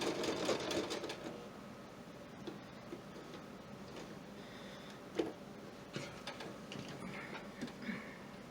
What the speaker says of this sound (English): I go right to the edge of the fabric and then back stitch